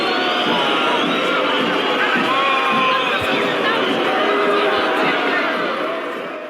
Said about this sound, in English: Listen to this crowd. It sounds insane.